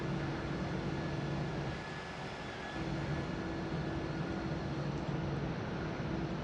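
Toliss A319 airliner in the X-Plane 11 simulator taxiing, with a steady, even whine of engine and cabin drone at moderate level and no talking.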